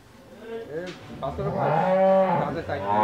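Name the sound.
Holstein Friesian cow mooing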